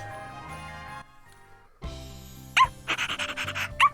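A puppy in Bravely Default 2 pants in quick, short huffs. Game music plays underneath, and the panting comes as a run of rhythmic breaths near the end.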